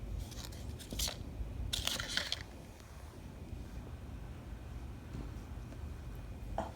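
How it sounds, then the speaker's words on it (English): Small scissors make a few quick, close snips while trimming the inner ends of magnetic false eyelashes. The cuts are scattered, crisp and faint over a quiet room background, with no talking. "I like to trim the inner portion that's a little bit shorter because I like long lashes"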